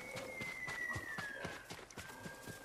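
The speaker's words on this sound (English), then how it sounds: "I get on my horse and chase you down?" Rapid, rhythmic hoofbeats of a galloping horse, close and steady, over a sustained musical tone, in the video game Ghost of Tsushima.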